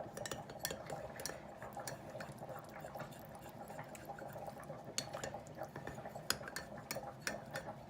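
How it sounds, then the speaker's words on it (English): A spoon stirs and scrapes around the inside of a glass, giving faint, irregular clinks and scratchy ticks in a quiet kitchen room. "I'm scraping the sides of the glass with the tip of the spoon"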